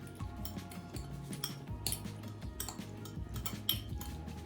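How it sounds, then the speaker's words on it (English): A utensil stirs salad dressing made with olive oil, salt and pepper in a bowl, giving close, repeated light clinks and scrapes in an irregular rhythm over a low steady hum, with no talking. "Give a nice little stir."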